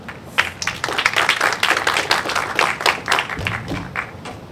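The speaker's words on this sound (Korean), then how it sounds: "큰 박수 부탁드립니다." Applause from a seminar audience after a historical presentation: dense, steady clapping from a moderate crowd, lasting several seconds.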